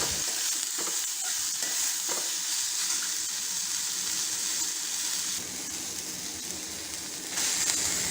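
Chopped onions sauté in a pan with lentils and chillies, giving a constant sizzle broken by frequent spoon scrapes and stirring knocks.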